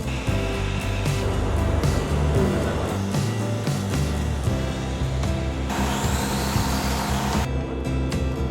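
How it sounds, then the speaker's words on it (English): Woodworking machines running in a workshop at a summer camp, a loud continuous mix of whirring motors and rough sawing or sanding noise that shifts in tone partway through. "Woodworking machines that we have now, which they are specific."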